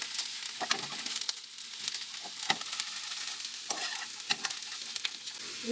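Potatoes sautéing in a pan at home, a continuous sizzle broken by repeated scraping stirs and clacks of a utensil against the pan, with no voices.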